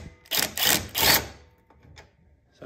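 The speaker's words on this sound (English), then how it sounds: "I'm just gonna loosen up some of these bolts." Two short bursts of a whirring power tool loosening bolts on a Toyota RAV4 alternator bracket, close and fairly loud, followed by faint metallic clicks.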